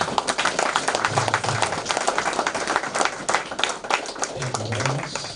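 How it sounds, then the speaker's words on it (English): An audience at a formal handover ceremony for laboratory equipment claps in a sustained round of applause that stays steady and fairly loud for about five seconds, with some low murmuring underneath. "have a very big clap for what we have received so far"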